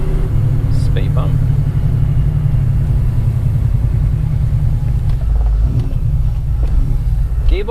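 Supercharged S62 V8 in a BMW E39 M5 drives steadily, its low engine rumble droning continuously throughout with slight surges, while people talk over it.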